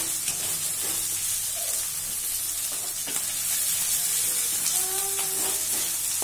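Chicken and onion sizzle steadily in a little oil for chilli chicken, with a continuous close frying hiss and occasional scraping clinks of stirring.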